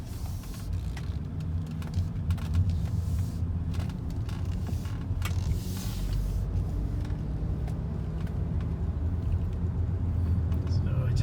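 A high-mileage 2007 BMW 530i, with a VANOS fault among its stored codes, gives a steady low engine and road rumble from inside the cabin while driving, with someone talking over it.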